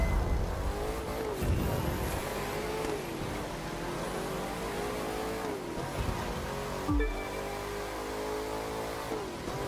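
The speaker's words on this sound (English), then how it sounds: "I'm racing with some couple of drivers by using some supercars" Supercars race in The Crew 2, engines roaring and revving at close range with rising and falling pitch through gear changes, a sharp transient near the end, and no talk over the steady drone.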